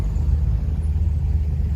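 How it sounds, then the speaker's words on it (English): Steady low rumble of several cars rolling in to a crowded car meet, engines idling and crawling nearby with no voices, a constant dense drone throughout. "A lot of more cars are coming in."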